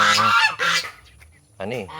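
Loud geese honking up close, a few harsh overlapping calls in quick succession, then a short pause before another burst of honks.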